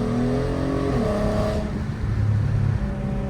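VW MKV R32 exhaust on a lift, revving loud and steady with rising harmonic tones, then settling into a lower rumble that persists to the end.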